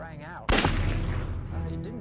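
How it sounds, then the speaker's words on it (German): Gunshot sound effect in a World War I tunnel, one sharp loud blast that booms and rumbles as it decays, preceded by a low murmur of voices or music. "Als plötzlich, exakt wie im Groschenroman, ein Schuss ertönte."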